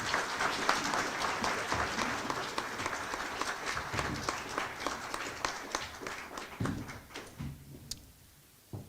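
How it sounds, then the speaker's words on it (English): An audience at a city council and mayoral candidate forum applauds, a dense burst of clapping that gradually thins and fades to a few scattered claps. "Please give them a round of applause."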